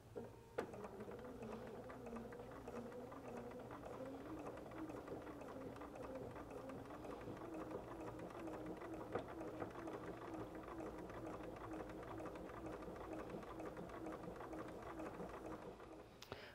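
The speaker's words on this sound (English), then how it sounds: "I'm just going to turn my pillow and sew right along the edge of the border" A sewing machine running continuously along the border of a quilted pillow, an even, unbroken mechanical whir at moderate level throughout, with no talk.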